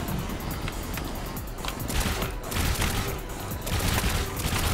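Cannons mounted on a plane in the Trailmakers video game fire in a dense, continuous fusillade of rapid gunshots, loud and sustained throughout with no pauses.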